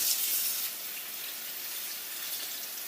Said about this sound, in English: And we'll rinse off our asparagus.